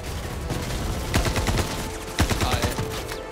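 Crossfire during an armed raid in the space game Star Citizen: rapid volleys of gunshots ring out in clustered bursts over a constant noisy backdrop, loud and close, with two heavier flurries.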